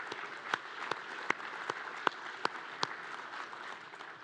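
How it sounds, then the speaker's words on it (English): Audience applause at a pre-conference symposium on US special operations forces in World War II: a steady wash of clapping with a few sharper individual claps standing out, moderately distant, no voices. "So let's give them a round of applause as well."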